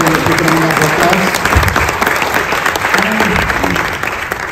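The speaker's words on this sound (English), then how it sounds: "Please give her a big round of applause" A concert audience applauds, dense sustained clapping from a crowd that holds steady and only slightly eases toward the end.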